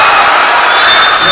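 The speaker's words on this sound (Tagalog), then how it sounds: "Crowd coming alive." Basketball arena crowd cheering and roaring during a league opening game after a three-pointer, a steady, loud wash of voices filling the space without a break.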